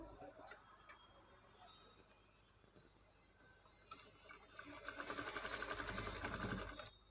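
Sewing machine double-stitching a blouse back neck, quiet at first with a faint tick, then a steadier louder stitching run toward the end, close by.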